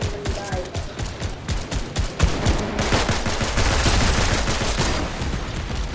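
Rapid bursts of gunfire from Fortnite crackle in quick, dense volleys, loud and close. Player voices are mixed in beneath the shooting.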